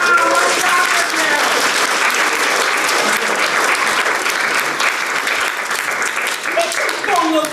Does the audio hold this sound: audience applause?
yes